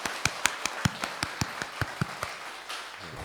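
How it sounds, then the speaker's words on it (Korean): A congregation at an early-morning church worship service gives about a dozen sharp claps in a steady rhythm, close and moderately loud, fading out toward the end. "우리 살아계신 우리 하나님 아버지께 우리 감사의 박수를"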